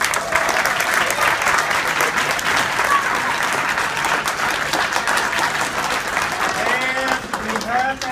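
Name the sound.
audience applause after school winter concert performers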